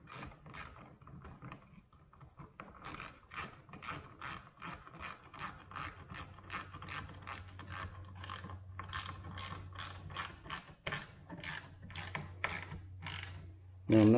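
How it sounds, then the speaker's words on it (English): A hand ratchet clicks in a fast, even series of sharp pawl ticks, with short pauses between strokes, while tightening a bolt on a roof rack crossbar on a 2024 Ford Bronco Sport, close and distinct with no talking. "ratchet, and I'm just going to tighten this"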